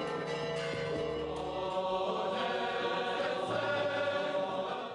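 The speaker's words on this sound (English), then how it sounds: "the peal of bells could be heard" Church bells pealing throughout Jerusalem's old city near the Church of the Holy Sepulchre, a continuous ringing wash of overlapping tones that holds steady for several seconds with no talk.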